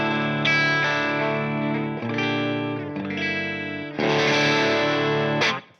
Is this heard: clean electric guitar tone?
yes